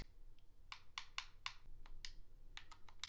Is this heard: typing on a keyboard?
yes